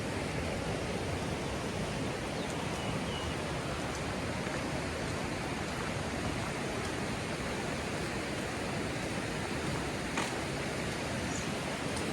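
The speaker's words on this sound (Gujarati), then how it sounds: "દેખાડ એને દેખાડ જો પાણી ભાગે છે" Rushing water flows at the Gautameshwar Mahadev temple, a steady, dense, broadband roar like a stream or small waterfall that holds even and close throughout, with no voices.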